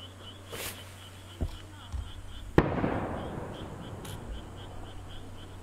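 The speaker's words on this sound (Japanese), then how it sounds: "その再開を祝しての花火が打ち上げられております。" Distant fireworks at a harbor fireworks festival over the sea in Aioi, Japan, pop and crack in scattered bursts, with one sharper bang midway and a faint crackling tail, over quiet ambient noise.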